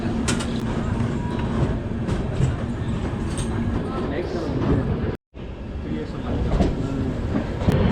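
Thirukkural Express pulling out of Agra Cantt station, heard from inside a 3AC coach: continuous rumbling rail noise and clattering wheels with a brief cutoff partway through, voices faintly mixed in.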